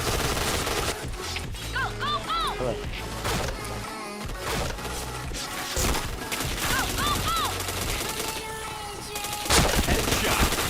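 Gunfire in the shooter game Point Blank comes in dense, rapid bursts of automatic shots with clattering impacts and game effects, continuous and loud throughout the round.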